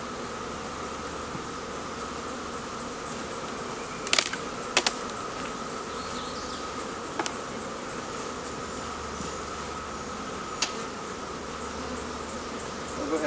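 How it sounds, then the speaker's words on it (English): Bees buzz in a steady, even drone around an opened hive during a swarm rescue as boxes are lifted off, with a few sharp clicks and knocks over the hum and no talking. "Hopefully get rid of some of the bee population in the hive there."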